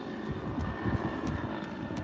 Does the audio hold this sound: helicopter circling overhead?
yes